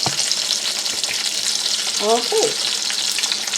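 Pork schnitzel sizzles and fries steadily in a pan, a dense continuous crackle close by, with a brief spoken word and a short tonal clink partway through.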